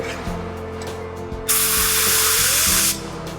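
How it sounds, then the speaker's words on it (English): An HVLP spray gun lets out one loud, even hiss while spraying a test pad, lasting about a second and a half, with quiet workshop noise before and after. "we're going to spray a test pad"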